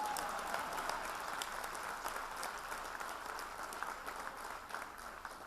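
Steady, even applause from an audience at a Dastangoi storytelling performance about Nizamuddin Auliya and Amir Khusro, continuing throughout at a moderate, slightly distant level with no talk over it.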